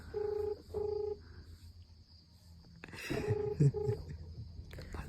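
A phone's keypad tones beep in short, separate bursts while someone dials a call at new year, quiet and clean, followed by rustling and a few faint taps.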